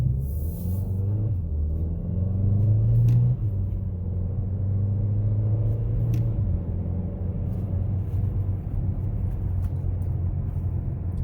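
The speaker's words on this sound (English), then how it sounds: "we're gonna do a pull and see how it accelerates" A 2021 Kia Seltos pulls hard from a stop, its engine a steady close rumble that climbs in pitch and then holds, heard from inside the cabin with no one talking.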